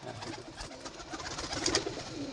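Soft, low cooing from Madrasi pigeons rolls on continuously, quiet and near, with light ambient noise behind.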